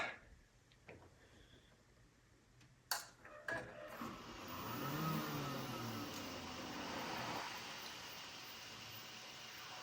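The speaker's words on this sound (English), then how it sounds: "I hear all the hard drives kicking on." An old Power Mac G5 fitted with a multi-drive bracket powers up, with a few clicks and thumps before a steady whirring hum of hard drives and an optical drive spinning up builds and holds.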